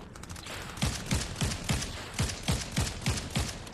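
Rapid bursts of video game gunfire during a console tournament match, sharp repeated shots in a steady rhythm about every third of a second, loud and close with no talking.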